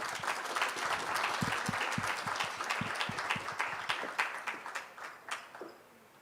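Audience applause for the Indian ambassador at a women's empowerment event in Bangkok, a dense steady wash of many hands clapping that thins into scattered claps and fades out near the end.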